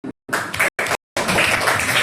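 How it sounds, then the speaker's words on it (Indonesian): A primary school class clapping hands in a classroom, short separate bursts of rhythmic clapping followed by a longer sustained round, close and fairly loud. "Berikan tepuk tangan."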